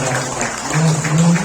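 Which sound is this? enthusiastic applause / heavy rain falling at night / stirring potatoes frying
enthusiastic applause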